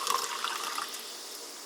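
Soda is poured from a can into a mug, a fizzy liquid stream that splashes loudest at the start, then settles into a softer, steady hiss and trickle.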